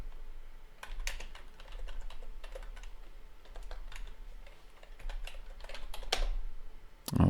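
Quick bursts of keystrokes on a computer keyboard as a folder name is entered, light close clicking in uneven runs, ending with a firmer key press.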